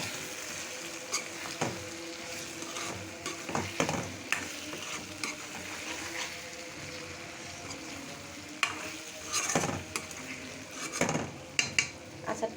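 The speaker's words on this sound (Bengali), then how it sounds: "এখন আমি আচারটা নেড়ে দেবো।" Spicy mango pickle with onion and garlic is stirred in a pan, bringing soft sizzling with intermittent scraping strokes and metallic clinks of a spoon against the pan, close but fairly quiet.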